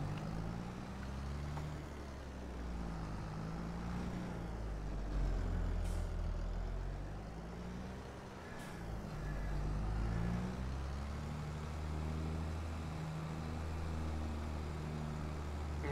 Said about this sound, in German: So, den Ladewagen fahren wir hier jetzt mal kurz raus.